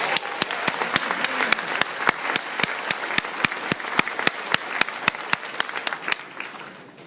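Steady audience applause welcoming speaker Jesse Stetton to the podium, a crowd's dense clapping with sharp individual claps standing out, holding strong for several seconds before tapering off at the end.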